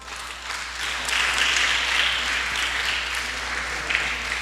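A church congregation breaks into steady applause that swells after a second and stays dense and even, a crowd of many hands clapping together at close range.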